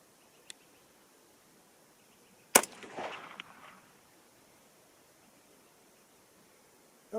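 .224 Valkyrie rifle fired at a target range; a single sharp, loud report with a brief rolling tail stands out from quiet surroundings, with fainter clicks before it and another sharp onset at the very end.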